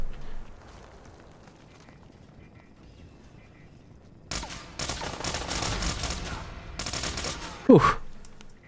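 Nailer gun fire in Fallout 4 comes after a quiet stretch as two loud, dense bursts of rapid shots, with a brief gap between them and a sharp sliding shriek near the end.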